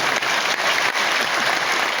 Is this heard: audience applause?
yes